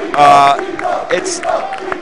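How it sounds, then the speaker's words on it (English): A crowd chanting at the Evo 2013 fighting game tournament during the Super Street Fighter IV AE 2012 top eight finals, a loud, voiced burst followed by rhythmic chanting and cheering from a packed hall. "The crowd chanting Evo."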